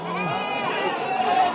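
A young male goat bleats in a long, wavering cry at the Wage Wadas livestock market, heard up close over people chattering in the background.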